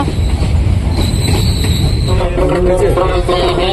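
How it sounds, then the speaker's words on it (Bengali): A train pulls into a station with a heavy rumble of wagons, clattering wheels and a high metallic squeal of braking, loud and near. "আমাদের ট্রেন চলে এসেছে এইমাত্র।"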